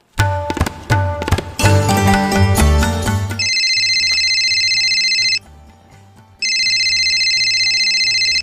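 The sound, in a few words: telephone ringing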